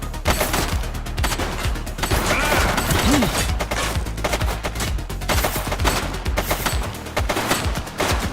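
Dense, loud gunfire in a police video game, continuous rapid automatic bursts of overlapping shots with no pauses across the whole stretch.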